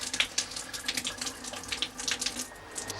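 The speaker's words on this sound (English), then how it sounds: "there should be hot water, but you can see it's just a trickle." A weak trickle of water from a hot tap in a 1980s home, a steady splashing patter with small irregular drips, close and alone.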